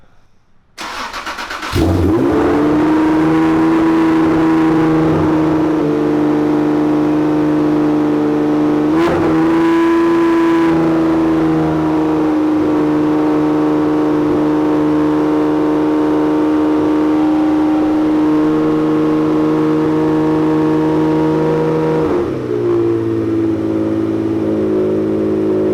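Turbocharged Acura NSX firing up for the first time after a turbo kit install: the engine catches and settles into a loud, steady idle, with a brief rev partway through and a dip as the revs drop near the end.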